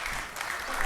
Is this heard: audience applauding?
yes